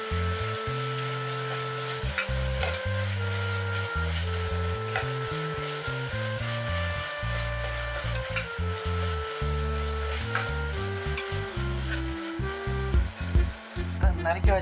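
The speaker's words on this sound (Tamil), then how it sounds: "இது நல்லா பச்சை வாசனை போகிற வரைக்கும் நல்லா வதக்கிக்கோங்க. வெங்காயம் நல்லா வதங்கி வரட்டும்." Continuous sizzling of onions frying in a hot pan, with steady crackle and occasional stirring scrapes, loud and close throughout.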